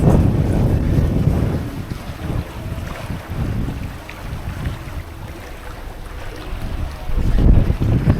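Strong wind of about 7 knots rushing over the microphone aboard a moving sailboat at sea, low rumbling gusts with water splashing underneath, rising again near the end.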